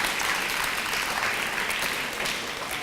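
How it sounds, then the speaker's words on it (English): Steady, dense audience applause fills the space, a continuous wash of clapping at moderate loudness with no pauses, heard at a community speakers' bureau event. "So let's give him one more round of applause."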